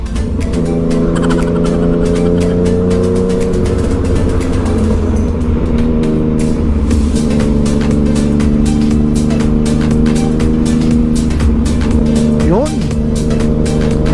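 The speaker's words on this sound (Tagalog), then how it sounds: "sobrang ingay po ng pipe" The loud exhaust of a Yamaha MT-09 motorcycle rumbles steadily close by, with a faint rise in revs near the end, while a voice talks over it.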